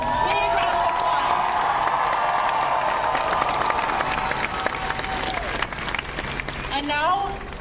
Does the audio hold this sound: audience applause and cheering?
yes